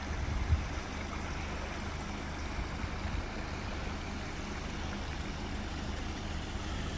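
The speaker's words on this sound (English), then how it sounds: "Figured I'd film this cool waterfall that's coming down the mountain" A mountain waterfall pours down a slope beside a backroad near Whitwell, Tennessee, making a steady, broad rush of falling water that holds constant throughout, with a faint low rumble underneath and no voices.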